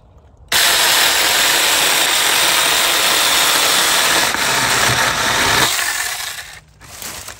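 Saker Mini electric chainsaw cutting through wood, a loud steady buzzing whine that starts abruptly, holds for about five seconds, then fades and stops.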